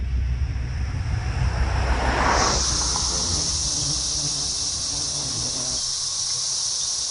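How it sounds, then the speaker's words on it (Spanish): Male periodical cicadas drone in a loud, continuous buzz that swells in the middle and settles into a steady high whine, close and unbroken throughout. "Se trata de la cigarra periódica."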